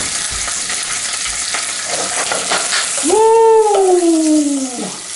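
Oyster mushrooms frying fast in butter give a steady, loud broadband sizzle, and a brief tonal whine or whistle rises over the hiss near the end.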